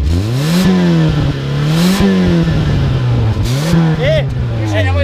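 A car engine idles loud and close, rising in three quick revving surges. A brief voice sounds near the end.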